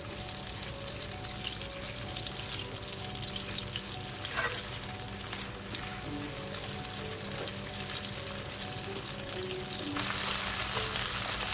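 Chicken stir-fried in a pan for Singaporean rice, a steady continuous sizzle and crackle of frying with occasional stirring scrapes, close and even throughout, no voices.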